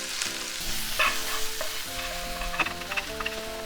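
Grated garlic, ginger and scallion sizzle and crackle in hot sesame oil for a prawn chili dish, with steady frying hiss, stirring scrapes and a few sharper pops, close and continuous with no talk.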